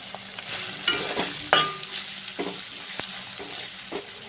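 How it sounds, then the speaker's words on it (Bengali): Ginger and garlic paste with spices sautéing in a pan over medium flame, a low sizzle under repeated scraping stirs and occasional clinks of the spoon, close with no talk. "গ্যাসের ফ্লেমটাকে মিডিয়াম করে নিয়ে ভালো করে মশলাগুলো কষিয়ে নিতে হবে।"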